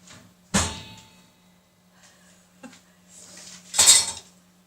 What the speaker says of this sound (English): So now what you've got to do is try and get it out of that pan.